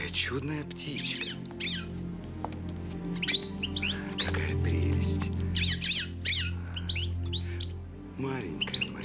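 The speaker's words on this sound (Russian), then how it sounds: "какая чудная птичка." A small songbird kept in a cage chirps and tweets in quick bright bursts through an indoor period-drama scene, under a soft music bed, while someone speaks briefly.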